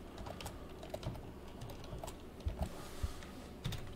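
Fingers tap a computer keyboard in quick, irregular keystrokes, quiet and close, alone without speech.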